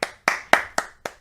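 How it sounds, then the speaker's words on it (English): Five distinct hand claps in a steady, evenly spaced rhythm, each sharp and close, with short decays between them and no voices. The audience clapping comes after Wayne Brady is introduced on an interview show. "Give him a round of applause."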